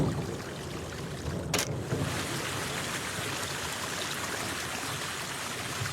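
An ordinary fountain in the video game Locust City splashes steadily, a continuous rushing water wash heard alone, with one brief sharp click partway through.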